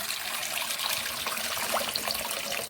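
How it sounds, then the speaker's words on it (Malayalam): A cup of water is poured into a pot of amla rasam with green chilli, tomato, turmeric and tamarind, making a steady splashing gush that runs close and continuous, then cuts off at the end. "1 കപ്പ് കൂടി വെള്ളം ചേർത്ത് കൊടുക്കാം"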